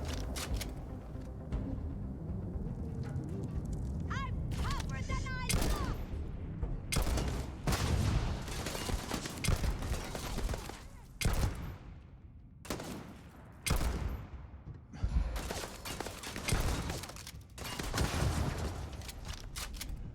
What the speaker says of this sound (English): just throwing grenades at my companions over and over again